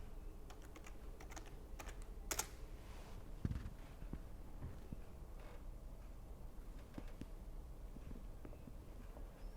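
Steady typing on a computer keyboard as a username and password are entered, a continuous run of light, close key clicks with a couple of sharper taps, no talk.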